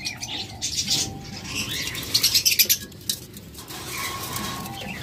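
Caged pet birds at a sale stall, including green opaline budgerigars, chirp and tweet in quick overlapping bursts, with brief wing flutters and cooing nearby.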